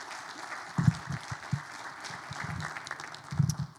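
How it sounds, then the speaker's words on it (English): Audience applause for speakers at a funding info session, a modest scattering of claps that rises and falls, fairly soft and somewhat distant, with no speech over it. "I would also ask you to a round of applause to our speakers"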